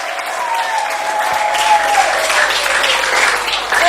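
A church congregation applauds loudly and steadily throughout, a dense continuous wash of clapping from many hands.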